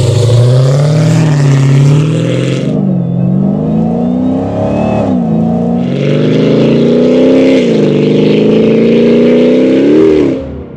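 A Dodge Challenger Hellcat with a 3-inch active exhaust revs loud and close, its deep engine note climbing and falling through several rev sweeps with short lifts in between.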